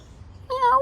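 A short, fairly close meow rises after a moment of near silence.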